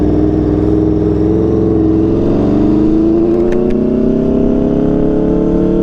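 An Aprilia RSV4 motorcycle fitted with an SC-Project CRT exhaust drones loudly and steadily throughout, its engine note climbing slowly as it revs up while riding.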